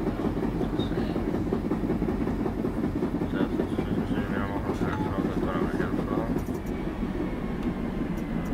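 A Czech city tram rumbles along its line on route 1, a steady loud low roar with faint rhythmic clatter from the rails, while a person talks over it.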